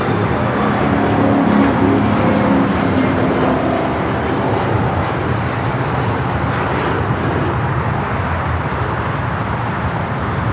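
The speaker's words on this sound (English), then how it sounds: "That was United 2449 taking off to Las Vegas" A United airliner takes off from LAX: a loud, sustained jet roar rumbles steadily throughout at moderate distance, with no one speaking over it.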